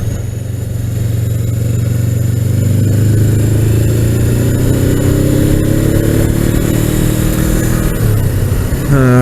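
Suzuki GS500F motorcycle ridden on the road, a steady loud engine drone with rising and falling revs through gear changes, wind noise throughout, ending in a quick rev rise.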